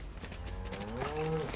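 A cow in the video game LEGO Fortnite lets out a drawn-out moo, loud and close, with no talk over it.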